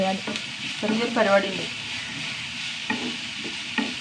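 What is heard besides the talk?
chopped onions sautéing in a pan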